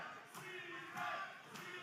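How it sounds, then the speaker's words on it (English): At a wrestling show, a distant crowd chants in rhythmic, repeated swells, faint and reverberant, with a commentator's voice over it. "Crowd chants for Steven Steele here"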